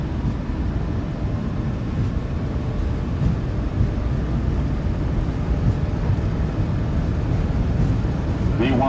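Airliner engines on a PMDG jet in Microsoft Flight Simulator 2020 spool up to takeoff thrust on the runway at Oslo, a heavy continuous low roar that stays loud and steady throughout, with cockpit callouts spoken over it.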